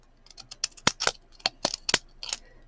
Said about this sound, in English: with these scissors.